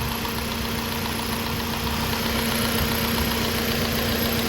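A 2014 Hyundai Sonata gasoline direct-injection engine idles steadily with injector 3 disabled, giving a continuous, even mid-pitched hum with a faint knocking roughness, close and unbroken throughout.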